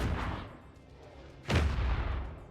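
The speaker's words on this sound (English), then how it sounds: "And fire off the dreadnought." A dreadnought firing in the space strategy game Worbital: a deep heavy boom that swells and rumbles out, following a softer earlier blast.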